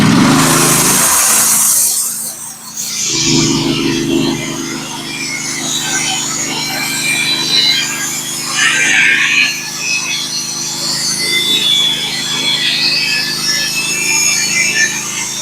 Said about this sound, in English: I'm going to drop down 1 inch to 13 7/8 and take one more cut.